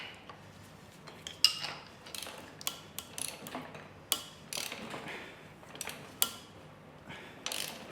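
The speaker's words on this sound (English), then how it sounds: "So you just have to get a pry bar" A pry bar levers the cambelt onto a pulley on a 2012 Ford Fiesta 1.25 Zetec engine, with close metallic clicks, scrapes and knocks in irregular bursts and no talking.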